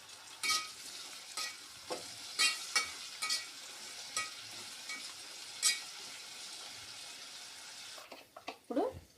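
Tomato and green chillies frying in a pan for mutton biryani, a soft sizzle with intermittent spatula strokes and scrapes, a brief cluster of louder stirring near the end.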